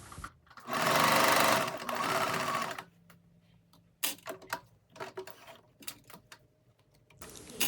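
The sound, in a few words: sewing machine topstitching denim dress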